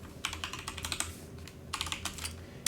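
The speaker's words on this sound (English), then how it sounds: "I'm going to go ahead and type in print here." Rapid, close typing on a computer keyboard while entering a Python print statement: bursts of crisp key clicks, a short pause, then another burst. No talking.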